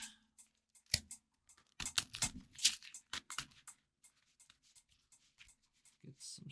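Card game sleeves scrape and catch against one another during shuffling, in quiet, irregular bursts of soft scratchy friction at close range, with pauses between.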